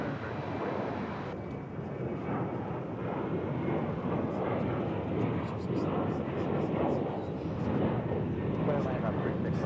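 An American Airlines jet lands on runway 36 left at DFW Airport, a steady, broad engine and wind roar filling the whole clip at a moderate, even level.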